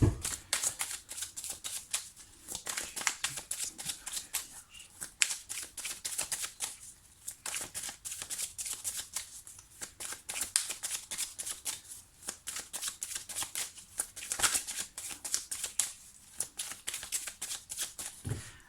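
Tarot cards being shuffled and handled in a steady run of dense papery riffles and flicks, close and continuous, with no talking.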